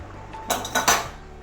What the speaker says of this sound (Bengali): এবারে ঢাকনাটা খুলবো